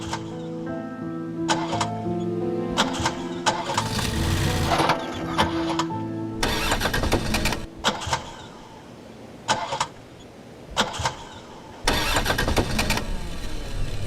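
A car engine cranks repeatedly without catching, a whirring starter in bursts separated by brief pauses, loud and close, with no speech.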